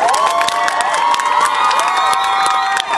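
An audience at an outdoor evening event during the San Bartolomeo festival breaks into sustained applause and cheering, with whistles and shouts rising over steady clapping for the full three seconds, loud and close.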